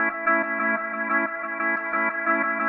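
A sustained, layered synth-like tone from an old tape sample in Output's Arcade pulses in repeating echoes, with a warm, slightly warbly, tape-worn character; steady and fairly loud, no voices.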